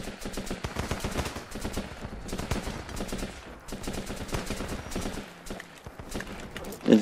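Rapid squad gunfire in the Running With Rifles video game, with many overlapping rifle shots crackling steadily for about seven seconds at a moderate distance.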